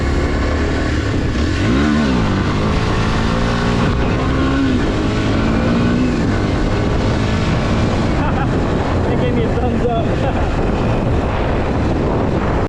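A Kawasaki KLX230 dirt bike engine drones loudly and close while riding, its pitch sweeping up and down through gear shifts, with heavy wind buffeting the microphone.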